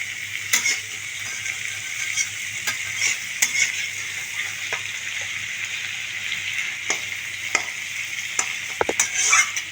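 Chilli chicken frying over a medium flame in a pan with a steady sizzle, while a spoon stirs and scrapes it in repeated clinks and knocks, close and fairly loud.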